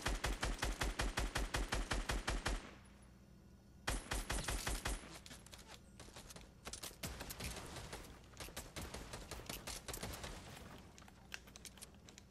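Rapid bursts of automatic gunfire in Fortnite, fired through the floor at an opponent below. The shots come loud and close in fast repeating volleys, with a short lull near the start and then sustained shooting through to the end.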